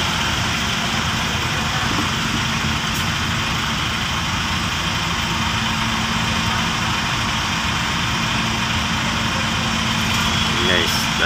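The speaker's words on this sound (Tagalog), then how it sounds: "palabas na lahat yung mga truck" Heavy trucks idle and pull off a ferry bound for Oriental Mindoro, their deep engine drone steady and unbroken, with faint voices mixed into the noise.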